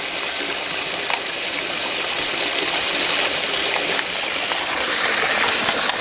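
Water runs from a hose onto tree roots in extreme weather, a steady, close gushing and splashing hiss that continues without a break.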